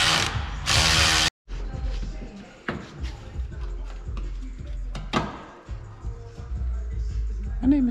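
A ratchet tightens a bolt on the rear spring bushings of a 2006 Infiniti G35, giving bursts of close clicking with some clanks of metal and a loud tool whir at the start. No one talks.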